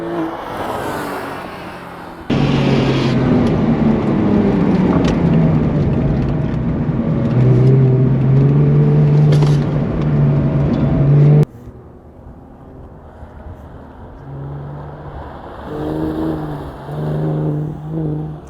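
A Porsche 911 with a swapped-in LS1 V8 engine on a flying lap, its loud engine droning and revving steadily before cutting off abruptly, then a fainter engine note rising and falling afterward.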